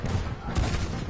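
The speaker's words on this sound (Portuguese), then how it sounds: "2 tiros, né?" Gunfire in the video game Red Dead Redemption 2, with two quick, muffled shots about half a second apart, each followed by a short low rumble.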